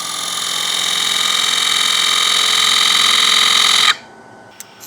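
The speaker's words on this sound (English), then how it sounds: "Back to the parting tool." Wood lathe spinning a wooden workpiece while a parting tool cuts, a loud steady whine and hiss that stops abruptly near the end and is followed by a quiet tap.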